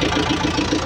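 A Caterpillar 422F backhoe loader's diesel engine idles close by, a steady mid-low drone with a faint pulsing beat throughout.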